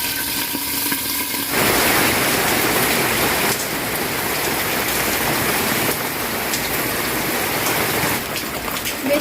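Pumpkin leaves hit hot oil in a pan and set off a loud, steady hiss and sizzle that swells once and carries on close, with no talk.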